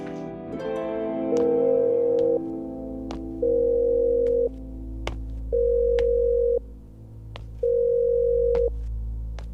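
Telephone ringback tone repeats four times in evenly spaced, loud bursts, each about a second long with short gaps, while an outgoing call goes unanswered; faint sharp clicks punctuate the background and no one speaks.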